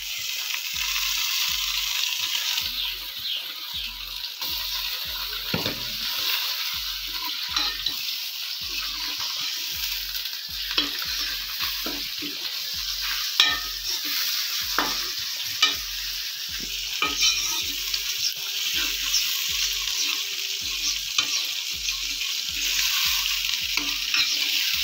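Chicken pieces frying in a pan while being stirred, steady sizzle with rhythmic scraping strokes and occasional clanks of the spoon against the metal, close and without speech.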